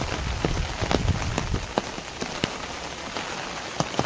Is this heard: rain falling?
yes